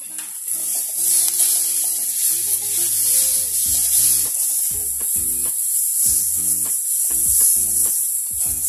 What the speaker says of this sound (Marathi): हे सगळं साहित्य एकत्र चांगलं परतून घेऊ